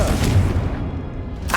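A Confringo explosion spell cast in Hogwarts Legacy, a deep low boom that rumbles and fades, with a brief whooshing burst near the end.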